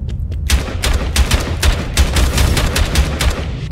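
Rapid pistol fire in the game Bunker Punks, a steady stream of sharp, close shots fired in a quick repeating rhythm throughout, loud and dense with no talking over it.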